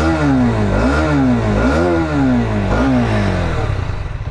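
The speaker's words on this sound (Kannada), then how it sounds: "ಅದಕ್ಕೆ ಮುಂಚೆ ನಿಮ್ಗೊಂದ್ಸಲ ಗಾಡಿದು ಎಕ್ಸಾಸ್ಟ್ ನೋಟ್ ಕೇಳಿಸ್ತೀನಿ ನೋಡಿ" A Hero Xtreme 250R motorcycle revs up and drops back several times, its loud, close, deep exhaust note rising and falling in steady swells with no talking over it.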